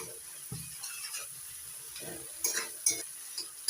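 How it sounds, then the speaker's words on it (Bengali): Spices with salt and turmeric sautéed in a pan for mushroom-rice murighanto, a soft stirring scrape and faint sizzle with a few louder clinks of a spatula near the end. "এবার দিচ্ছি পরিমাণ মতো লবণ হাফ চামচ হলুদ ভালো করে কষিয়ে নিচ্ছি মশলাটা"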